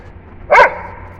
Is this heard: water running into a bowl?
no